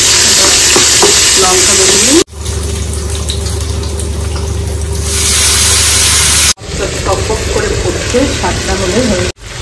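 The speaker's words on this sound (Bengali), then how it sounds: "মাংস কষে এবার জল দিয়ে দেবো।" Meat sautés and is stirred in a pan with green chillies and garlic, a loud continuous sizzle with spoon scrapes, briefly interrupted by a quieter steady hiss in the middle.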